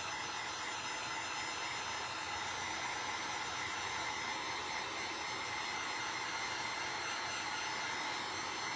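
A hair dryer blows steadily to dry gold paint on a Christmas craft, a constant loud whooshing roar that holds unbroken throughout with no talk.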